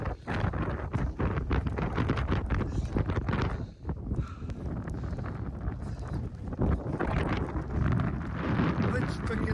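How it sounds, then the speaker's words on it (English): Strong wind blasts over a snowy, icy mountain summit, buffeting loudly and close in gusty bursts, with a brief lull midway before the roar picks up again. "The wind's picking up. It's coming in sideways."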